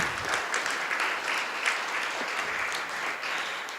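An audience at a chamber of commerce meeting and awards event claps steadily in warm, sustained applause of many hands, moderately loud and filling the room, with no speech over it.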